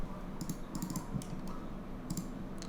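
Computer keyboard typing, quiet close-up key clicks in short clustered bursts with brief pauses between, over a low steady hum and no talk.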